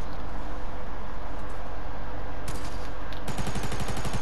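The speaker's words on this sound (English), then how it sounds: "Some team shooting at us. Indeed, they are." Rapid gunfire from an enemy team in Fortnite Battle Royale, loud and harsh, starting as scattered shots and breaking into fast automatic bursts near the end.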